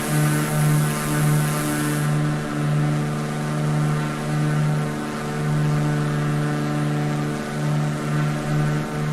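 A Mooney propeller aircraft engine in the Flight Simulator 2020 game hums loud and constant, with a steady low drone that swells and eases gently and a brief high hiss fading out early.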